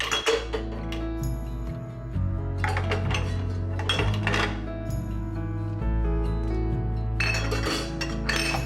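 Dishes, pots and cutlery clink and clatter in irregular bursts as they are loaded into a home dishwasher in a kitchen, with soft background music running underneath.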